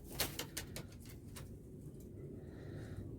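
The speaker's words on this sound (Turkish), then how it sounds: "Şurada bir çift oyun güvercini getirdim arkadaşlar." A pair of domestic play pigeons, male and female, coo softly in a coop, with low murmuring coos continuing steadily under faint background noise.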